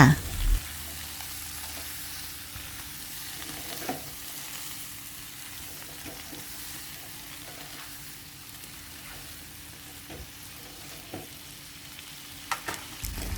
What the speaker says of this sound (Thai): ผัดให้เข้ากันแล้วเดี๋ยวเราปรุงรสค่ะ